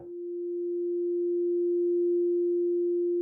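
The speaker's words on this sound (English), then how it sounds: "So, single sine wave, pretty straightforward." A Korg Opsix synthesizer plays a single pure sine-wave tone, a steady low note held for about three seconds that swells in gently and sustains at an even level, with no other sound.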